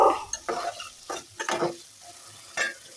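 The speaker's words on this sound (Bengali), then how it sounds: "এখন কেটে রাখা আলুগুলো আমি দিয়ে দিলাম এখন নেড়ে ছেড়ে সব মশলার সাথে মিশিয়ে নেবো" Cut potatoes being stirred into cooked spices in a pan, with several short scraping strokes of a spoon against the metal over a soft sizzle.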